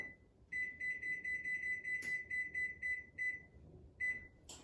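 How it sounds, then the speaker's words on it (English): Kitchen oven timer being set to about 12 minutes, giving a quick run of rapid electronic beeps, then a pause and a single beep, close and fairly quiet in a still kitchen. "I'm gonna set my timer for around 12 minutes."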